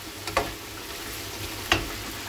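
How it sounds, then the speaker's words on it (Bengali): Celery leaves with salt and turmeric fry in a pan in their own water, a steady low sizzle broken by two short clacks of stirring. "এবার এটা ভাজা ভাজা করব যতক্ষণ এটার জলেই সিদ্ধ"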